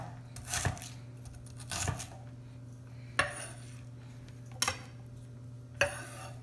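A knife rough-chops an onion on a board, five sharp, separate thuds spaced about a second apart over a quiet, steady background hum.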